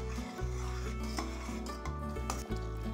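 A spoon scrapes and stirs around a pot of Tamil kootu curry with coconut paste in steady repeated strokes, with soft clinks against the metal and a faint simmer underneath.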